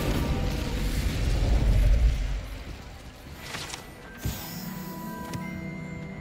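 Incendio fire spell cast in the video game Hogwarts Legacy, a rumbling whoosh that swells and fades over a couple of seconds, followed by sharp magical pops and a ringing shimmer, with no talk.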